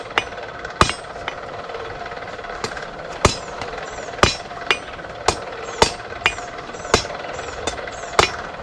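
A hammer forges hot metal on an anvil, striking irregular ringing blows of varying force, some sharp and loud, others lighter taps, over a constant low background hum.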